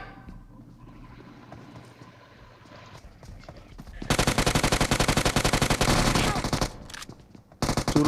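Automatic gunfire in the mobile battle royale game PUBG Mobile: after a quieter stretch, a loud, rapid sustained burst runs for nearly three seconds, then a second burst starts just before the end.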